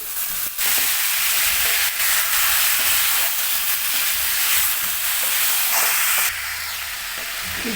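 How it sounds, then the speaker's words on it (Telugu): Soaked chicken pieces stirred into fried masala in a hot pan for chicken roast, a loud steady sizzle and hiss with scraping stirs, close-up, a sharp clatter as the pieces go in. "ఇలా బాగా మిక్స్ చేసుకొని ముందుగా నానబెట్టుకున్న చికెన్ పీసెస్ని ఇందులోకి యాడ్ చేసుకోవాలి"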